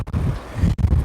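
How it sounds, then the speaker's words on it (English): Wind gusts buffet the microphone at a stadium construction site, a low, rumbling roar that surges and drops in short bursts, with no voices. "It's a little bit windy here today."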